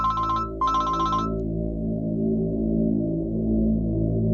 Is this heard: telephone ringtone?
yes